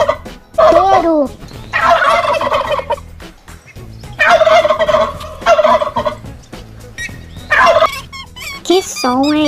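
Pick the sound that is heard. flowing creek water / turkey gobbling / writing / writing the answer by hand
turkey gobbling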